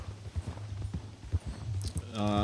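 Horse hooves plod through snow on a mountain in the game Red Dead Redemption 2, a soft irregular clopping with low thuds, fairly close, ending in a brief bright tonal sound.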